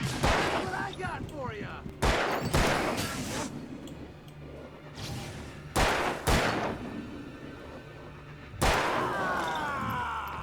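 Gunshots in the video game Alan Wake: several sharp, loud gun blasts spaced irregularly over roughly ten seconds, each cracking out over a busy game soundscape, with voices talking in between.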